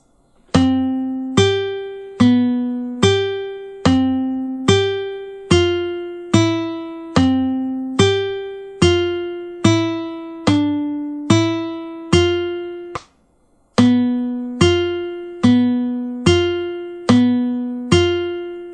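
A recorded practice exercise on the second string sounds as a steady series of about two dozen clear, evenly timed single notes, each struck and decaying, with one short pause before the pattern resumes; no talk.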